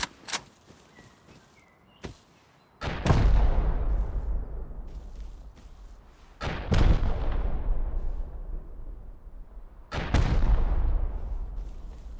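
Multiple rocket launchers firing in the game Rust, with three heavy booming blasts a few seconds apart, each rolling into a long rumbling decay, plus a few sharp cracks before the first.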